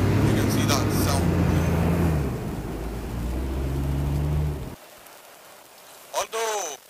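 A 2023 Ford Bronco with a V6 engine accelerating, heard from inside the cabin as a steady, loud engine drone with road noise for about five seconds, then a sudden drop to quiet and a short burst of talking.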